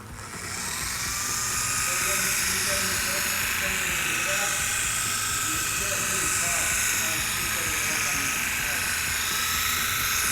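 An electric polisher on its lowest speed hums and whirs steadily as it spreads Chemical Guys polish across motorcycle plastic, a loud continuous buzzing drone with a bright hiss that runs almost unbroken.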